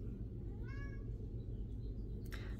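A house cat gives one clear, fairly soft meow with a rising and falling pitch, heard indoors over a low steady background hum, followed by a brief faint rustle.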